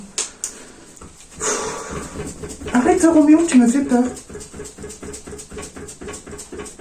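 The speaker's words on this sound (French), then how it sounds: "J'ai un fantôme, mais non, c'est mon chien." A dog whimpers and pants inside a house, its thin whines rising in a short cluster midway through while someone speaks French over and around it.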